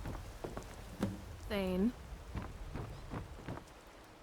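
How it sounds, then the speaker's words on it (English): Steady rain falls in the video game Skyrim as a soft hiss beneath a character's speech, with a brief drawn-out voiced tone in the middle. "Don't you just love a bit of rain?"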